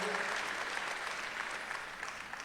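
An indoor audience at a ceremony breaks into applause, a dense, even wash of many hands clapping at once, held steady and fairly loud throughout without any speech.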